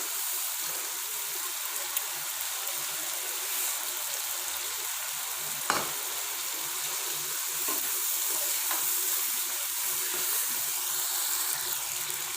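Hot homemade desi ghee with black pepper sizzling loudly in a pan as a tempering for mutton karahi, a constant crackling hiss with a few sharp pops and clinks, close by.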